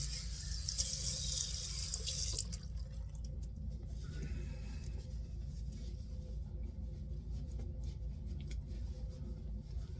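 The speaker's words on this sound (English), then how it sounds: "So let me rinse off this alum." A tap runs hard over an alum block being rinsed for a shave, a loud splashing rush for about two seconds that then drops to a quieter trickle and drip.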